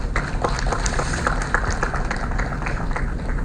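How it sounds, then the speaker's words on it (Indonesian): An audience at a government meeting breaks into applause, a thick, steady wash of many clapping hands lasting a few seconds. "Tepuk tangan dulu."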